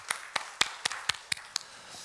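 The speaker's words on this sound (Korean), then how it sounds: "하나님께 영광의 박수를 드리겠습니다" Church congregation clapping in praise to God, heard as about eight evenly spaced, crisp claps in a steady rhythm, faint and distant, with no voices.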